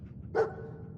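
A single short, sharp bark from a dog in the video game Fallout 4, standing out clearly over a low, steady background hum.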